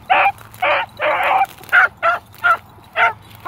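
Several puppies yapping in a rapid series of short, high barks and yips, about eight bursts in a few seconds, close and loud with a faint low hum underneath.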